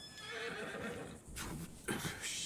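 A horse in the video game Red Dead Redemption II whinnies loudly and up close, with a second shorter neigh and hoof clops following.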